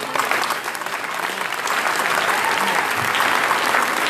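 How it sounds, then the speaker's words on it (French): An audience applauds Éric Jousse, president of Épicure Studio, at a 2019 New Year's greetings evening. The clapping is dense, steady and close, filling the whole stretch without any voices. "Vous pouvez l'applaudir."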